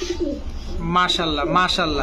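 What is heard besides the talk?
pigeon cooing at a pigeon farm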